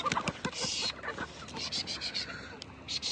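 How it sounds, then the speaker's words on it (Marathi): Hens clucking in repeated short bursts at dawn as they are let out, fairly close, over a busy outdoor background with some faint voices. "लवकरच कोंबड्या सोडून घ्यायचं"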